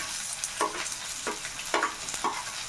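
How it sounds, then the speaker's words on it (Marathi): Onion, chili, crushed garlic and cumin frying in oil in a pan for a tava-fried brinjal bharit, a steady sizzle broken by several short bursts of stirring. "ते फ्राय करून घेते टोमॅटो कट केलेला आहे तो पण ॲड करून घेते"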